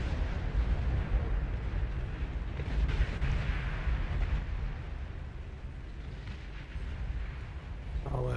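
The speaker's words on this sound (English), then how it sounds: "there's some big explosions up north" Big explosions rumble in the real-time strategy game Beyond All Reason, a dense, steady low roar of distant blasts and booming artillery with no clear gaps, moderately loud throughout.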